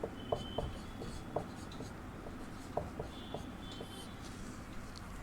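Chalk or marker scratching steadily on a classroom board during a Sanskrit lesson, a soft continuous run of short strokes and taps, close and quiet with no talk.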